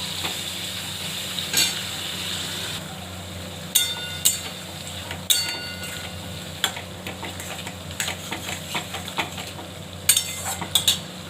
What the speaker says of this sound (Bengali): ভালো করে ভেজে নেবো পটলটা।